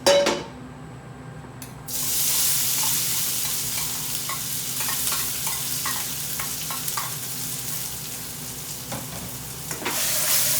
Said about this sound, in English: once the oil is heated up, I'll be adding the onions